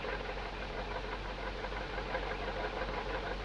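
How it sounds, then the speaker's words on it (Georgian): Badly running engine knocking at idle, a steady low vibrating rumble with a fast, even rattling knock throughout, close and continuous with no talking. "როცა ძრავი ცუდად მუშაობს"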